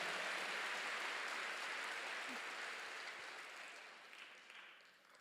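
A church congregation claps together in a dense, sustained wash of applause that stays fairly even and slowly fades toward the end, heard at a moderate distance with no talk over it.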